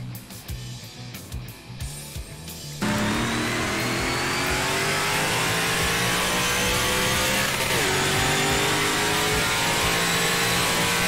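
A NASCAR race car engine, heard from the in-car view of a racing video game mod at Daytona, drones loud and steady after a quieter opening, its pitch sweeping as the engine revs.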